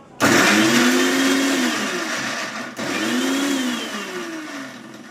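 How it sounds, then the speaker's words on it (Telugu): An electric mixer grinder purées onion and tomato into paste with a loud, close whirring roar that starts abruptly, drops out briefly in a short pause, then runs again and winds down slightly. "వీటిని కూడా ఏం చేయాలంటే మిక్సీలో పేస్ట్ కింద చేసేసుకోవాలన్నమాట"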